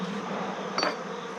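Honey bees buzz inside a hive stopped up with a rag during oxalic acid treatment for varroa mites, a dense, steady, close hum with one brief louder swell.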